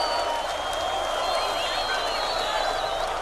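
Large rock concert crowd at Rock in Rio, a dense sustained roar of cheering and clapping filling the space, with scattered whistles and shouts rising over the wash throughout.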